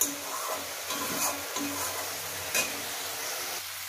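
Eggs fry in a hot pan, browning with a steady close sizzle, occasional stirring knocks and utensil clicks breaking through.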